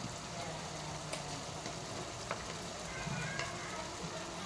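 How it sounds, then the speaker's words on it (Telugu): Tomatoes with salt, turmeric and chili powder cooking in oil in a pan, a quiet continuous sizzle with occasional soft stirring scrapes. "ఇవన్నీ ఇట్లా వేసుకొని అన్నీ ఆయిల్లో ఇట్లా మగ్గనివ్వాలి"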